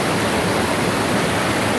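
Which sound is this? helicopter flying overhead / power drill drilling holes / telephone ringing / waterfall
waterfall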